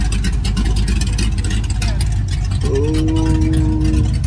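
A Dodge Charger muscle car engine rumbles loudly and steadily at a car show, with a rising mechanical whine near the end, while people talk over it.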